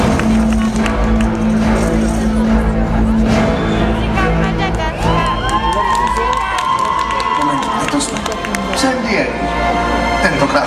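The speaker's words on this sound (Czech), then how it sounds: "prosím, potlesk pro ně" Audience at a dance championship in Prague cheers and claps for a children's dance group, a loud sustained crowd roar with shouts and whoops, while a voice speaks over the noise.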